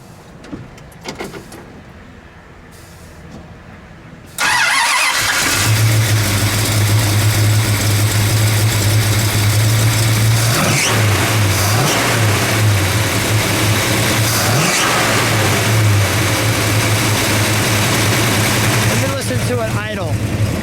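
A 426 Hemi V8 engine in a 1966 Dodge Coronet Deluxe cranks and catches at about five seconds, then roars into a loud, steady rumble with a few throttle blips. Voices are faintly audible beforehand.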